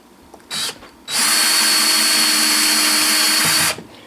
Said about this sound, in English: Run your drill at slow speed.